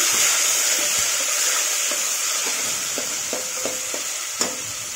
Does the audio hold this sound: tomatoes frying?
yes